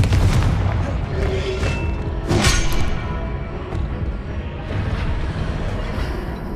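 Spell blast from the Confringo curse in Hogwarts Legacy, a dense rumbling boom with whooshing bursts and a sharper crack about two seconds in, over continuous game background noise.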